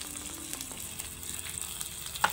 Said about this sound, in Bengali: দিয়ে মশলাটাকে আমি একটু কষিয়ে দেবো